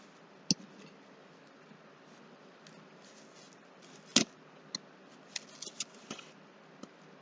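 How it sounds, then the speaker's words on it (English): Scissors snip through cardboard for a Fourth of July craft, giving a few sharp, close clicks and cuts spaced irregularly over a quiet background, with a cluster of small snips toward the end. "Just want to do a little more trim right there"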